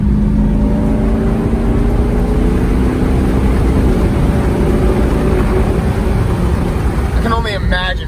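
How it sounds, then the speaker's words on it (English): Audi A8 cruising on the road, with a loud, steady engine and road drone throughout and a brief higher whine near the end. "Going for a cruise in the Audi A8 today with Nate again."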